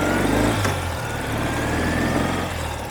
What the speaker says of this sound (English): we'll do a little bit of kind of like a highway type of acceleration